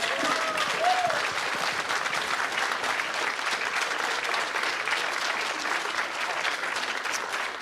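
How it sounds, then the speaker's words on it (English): A crowd at a public health debate in Dunedin gives a sustained round of applause, dense and even throughout, with a brief voice or whoop near the start. "can we at least give a round of applause to the people for participating tonight?"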